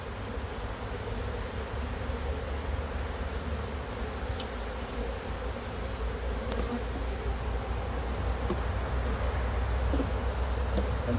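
Honeybees swarm around an open hive during an inspection while an artificial swarm is made, producing a steady, dense buzzing hum that fills the whole stretch without a break.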